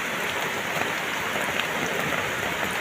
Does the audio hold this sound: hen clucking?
no